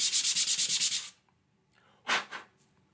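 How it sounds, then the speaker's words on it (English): Small wood pieces rubbed back and forth on flat sandpaper, a close, rhythmic rasping of about eight quick even strokes, then a pause and two more scrapes, with no talking. "put down onto a piece of flat surface, sandpaper, and then just do this a little bit"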